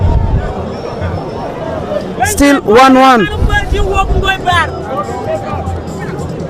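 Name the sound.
football match crowd cheering and supporting the team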